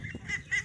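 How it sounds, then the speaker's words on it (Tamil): Ducks call from a village lake stocked with around 2000 birds, a brief burst of nasal quacking and honking mixed with background murmur. "இந்த ஏரியில் 2000 வாத்து விட்டுருக்கிறேன்."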